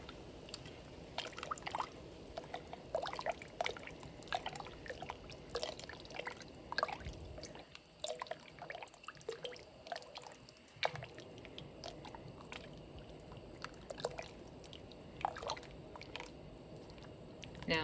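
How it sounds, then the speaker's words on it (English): Seasoning mix stirred into a pot of soup with kale and butternut squash, steady soft wet squishing and scraping in close, quiet detail, continuous throughout. "So here's our seasoning mix, and just dump all of that in"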